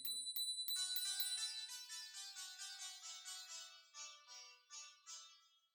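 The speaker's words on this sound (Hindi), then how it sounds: "घंटी अपने आप ही टन टन टन" A bell rings in a rapid series of bright metallic strikes, dense at first and then thinning into slower spaced dings that fade away, clear and alone with no voices.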